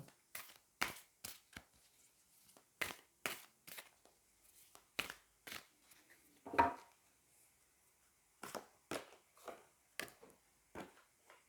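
Tarot cards drawn from a deck and laid down make a scattered series of quiet, crisp snaps and soft taps, with pauses between them and no voices.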